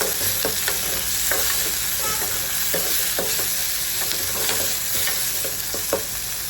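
Chopped tomatoes frying in a pan while being stirred, a steady loud sizzle with repeated soft scraping strokes of the spoon, close and without talk.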